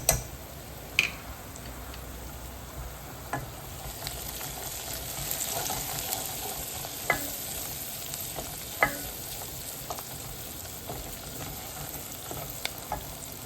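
Green chilli and turmeric fry in a pan with a soft, even sizzle running throughout, punctuated by a few sharp little clicks and pops, quiet and close with no speech.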